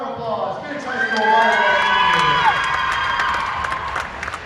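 A crowd in a high school gym at a volleyball senior night cheers and shouts, with whoops and children's voices rising over a dense roar that holds for several seconds before easing slightly.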